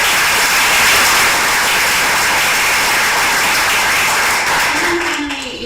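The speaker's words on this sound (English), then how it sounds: "So let's give a big round of applause for her." Tournament audience applause in a large venue, loud dense clapping and cheering sustained throughout, tapering slightly at the end with a brief voice.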